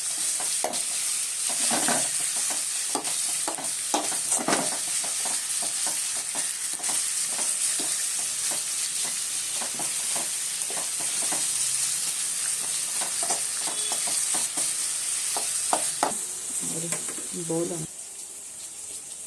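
Grated raw mango sizzles steadily in a pan for a mango chitranna, with repeated scraping knocks of a spatula stirring it throughout, close and fairly loud.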